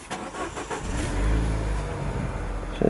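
A petrol Peugeot 308 CC convertible engine cranks and catches, then settles into a steady near idle with a low, even rumble, alone without voices.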